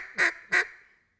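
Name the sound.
duck call imitating a duck's quack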